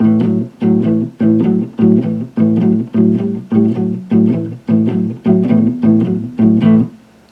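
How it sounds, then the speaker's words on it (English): An electric guitar plays a repeating blues shuffle rhythm, about a dozen chugging chord strokes in a steady swung pattern, close and loud with no voices. "apply that to a very stereotypical blues shuffle rhythm"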